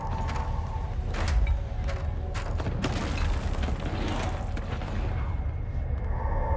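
Gunfire in the video game Control, set in a Communications Room: a steady stream of sharp cracks and booming, rumbling blasts with clattering mechanical noise, fairly loud and continuous throughout, with no talking.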